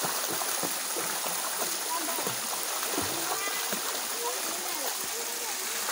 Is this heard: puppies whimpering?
no